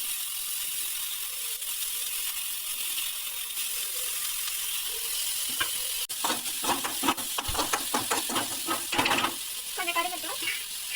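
Onions and fennel seeds frying in a pan for egg chukka: a steady sizzle runs throughout, and after about six seconds loud stirring scrapes and clatters join in.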